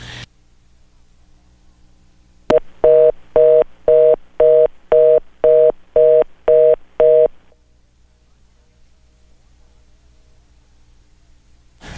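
Nine evenly spaced telephone keypad tones beep in a steady rhythm as a number is dialed to call a radio guest, with a click before them and near-silence after.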